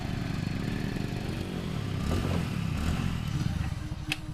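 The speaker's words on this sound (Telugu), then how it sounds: "రేయ్, ఇది మన రహీం బైక్ కదా?" A motorcycle engine hums steadily nearby with a low, continuous drone and slight rises in intensity, running without any speech over it.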